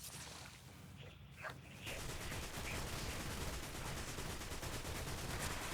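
Steady rapid gunfire crackles continuously in the mobile video game Destiny Rising, under a dense noisy background, after a brief quieter moment at the start.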